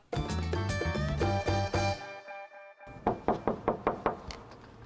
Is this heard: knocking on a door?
yes